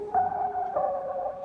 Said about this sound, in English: there's a flutter, which just has depth, but it can introduce flutter distortion